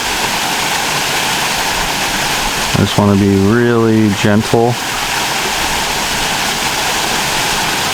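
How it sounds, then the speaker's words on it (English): A waterfall spills into water with a steady, loud rushing roar throughout, and a person speaks briefly over it midway. "Looks like there's a little ledge there that goes up probably to where the waterfall is spilling in."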